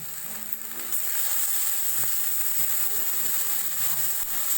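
Garlic, ginger and green chili pastes fry in a pan while a pomfret curry is prepared, giving a steady, close sizzling hiss that runs unbroken from start to finish.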